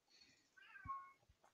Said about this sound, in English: Kitties were making noises